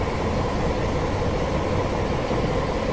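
A train rolls slowly into a station platform under a 15 mph limit in Train Simulator 2017 on the South Wales coast, a loud continuous low rumble and wheel roar with no talking.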